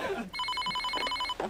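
A telephone rings with a repeated electronic trill, fairly close, while people talk faintly around it.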